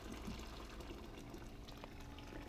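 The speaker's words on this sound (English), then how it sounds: "we're running the water out of here" Water draining steadily out of a vessel during a home brew day for a SMaSH IPA, a continuous close, even rushing and trickling flow with no talking.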